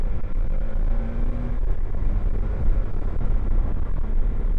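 A 2023 BMW S1000XR TE motorcycle engine while riding on a country road, a loud steady low drone with rushing wind, shifting briefly in pitch as the rider changes into second gear.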